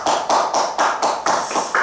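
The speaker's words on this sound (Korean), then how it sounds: "하나님께 영광의 박수를 올려드리겠습니다" A church congregation applauds together during an Easter Sunday service, a dense, steady wash of many hands clapping in rhythmic bursts, fairly loud and close, with no voices over it.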